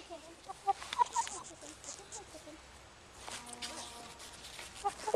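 Chickens cluck and squawk on a farm, with short calls scattered through the clip and a rising, stuttering cluck near the end. People talk in the background.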